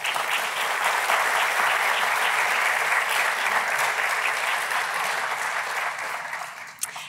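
Sustained audience applause greeting Kerry Robinson as she comes to the podium at a talk on preaching and spiritual leadership, steady and full throughout before tapering off near the end.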